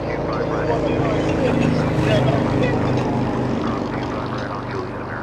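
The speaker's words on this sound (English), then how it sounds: "JetBlue 491 flying in from Buffalo" JetBlue flight 491 from Buffalo arriving at Los Angeles International Airport gives a loud, close engine rumble that swells briefly near the middle and then eases, while a voice speaks over it.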